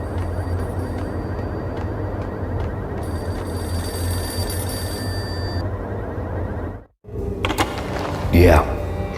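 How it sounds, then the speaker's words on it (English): Payphone ringing in the 2001 video game Max Payne, a repeated electronic bell tone against a low ambient rumble before a sudden cutoff and a voice speaking. "payphone started to ring."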